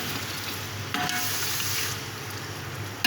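Yogurt frying in a pot for a biryani masala, giving a steady close sizzle with occasional stirring scrapes and clinks of the spoon.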